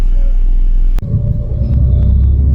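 Steady low engine rumble and road noise from inside a city bus travelling through Taipei, Taiwan, continuous and close, with a brief dip near the one-second mark and no talk.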